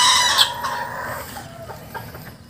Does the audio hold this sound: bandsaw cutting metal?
no